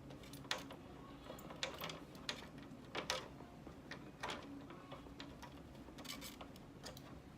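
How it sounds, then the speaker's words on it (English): Small metal nuts, bolts, spacers and washers being screwed into the corners of an acrylic gear cup turner: quiet scattered clicks, ticks and taps of hardware and tools against acrylic, close up with no talking. "Just screwing on each corner with your spacer, your nut, your bolt, and your washer."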